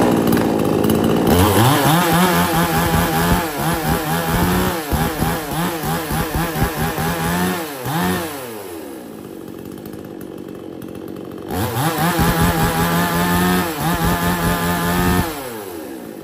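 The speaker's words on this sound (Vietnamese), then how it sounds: "Hàng cưa xích Kamatsu K17300 này." A Kamatsu K17300 chainsaw runs loud and close, revving up in bursts, dropping to a lower idle in the middle, then revving hard again before settling.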